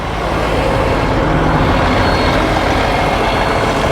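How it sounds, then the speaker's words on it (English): A truck engine runs at idle, a loud, steady broadband rumble that holds unchanged throughout with no voices. "Probably should shut this truck off in order to do the first part of this here."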